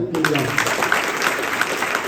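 An audience of students claps at a motivational question-and-answer session, a dense, steady patter of applause that starts abruptly and carries on, with a brief voice just at the start.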